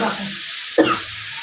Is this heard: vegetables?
yes